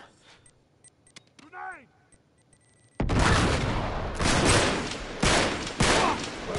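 Shotgun fire in the video game Uncharted 3, starting with sparse clicks and a brief whistling sweep, then a sudden wall of loud, dense blasts and booms that carries on with several heavy bursts to the end.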